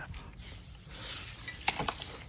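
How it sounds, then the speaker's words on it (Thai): Compost being mixed from food scraps, coffee grounds, cow manure, soil, grass clippings and fermented liquid: close, moist rustling and scraping in uneven strokes, with a few sharper crunches toward the end. "เศษหญ้าใส่ ผสมผสานอีกรอบนึงครับ"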